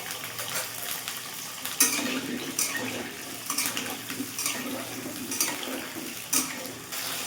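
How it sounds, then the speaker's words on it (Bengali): Potatoes fry in oil in a pan for a beef curry, sending out a steady crackling sizzle broken by sharp clinks and scrapes of stirring. "ফার্স্টে হচ্ছে আমি আলুটা ভেজে নিব সুন্দর করে"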